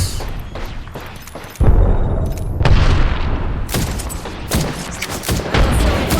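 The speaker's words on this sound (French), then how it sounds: "Je lance une étoile à arc. Attention, étoile à arc." Arc star grenade and gunfire in the battle game Apex Legends: loud booms and rapid crackling shots, with a sharp detonation jump partway through and dense combat noise continuing.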